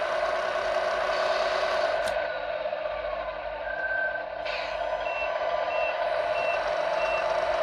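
Reverse beeper of a Tamiya MFC-01 multi-function unit in an RC truck, steady repeating electronic beeps sounding close and clear over a faint mechanical whir.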